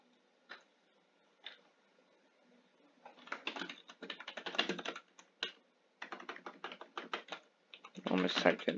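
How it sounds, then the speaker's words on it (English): Someone typing on a computer keyboard: a few isolated keystrokes, then rapid, fairly close clattering bursts of typing broken by short pauses. "Almost typed in the wrong command again."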